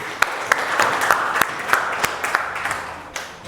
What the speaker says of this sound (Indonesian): Kita beri aplaus untuk Mbak Siti.